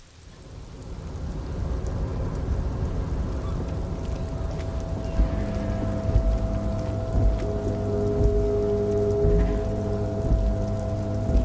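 Steady rain falls in the video game Disco Elysium, a continuous wash of patter heard alone throughout, with low rumbling tones and a faint musical drone underneath.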